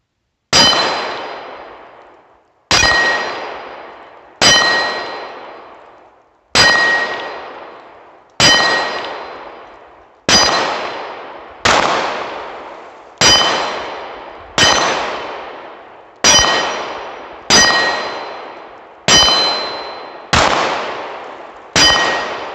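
Bullets from an American Tactical FXS-9 handgun strike steel shooting targets outdoors, giving about a dozen sharp, ringing metallic clangs spaced roughly two seconds apart, each loud and decaying slowly with no talk.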